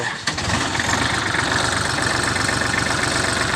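A Kubota tractor engine cranks and catches right at the start, then settles into a loud, steady, rhythmic idle close by after a fuel filter change.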